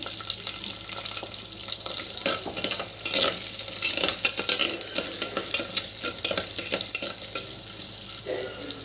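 Garlic and onion with cumin seeds sauté in a clay pot, giving a steady close sizzle with scraping stirs and soft clinks throughout.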